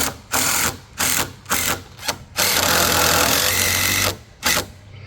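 Screws driven into dock bench boards laid over stringers on dock pilings, a power driver whirring in several short bursts and then one long sustained run, ending with two more quick bursts, loud and close.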